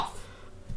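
A single sharp human cough comes close to the microphone right at the end, after a moment of near quiet, from a player during a Minecraft survival game session.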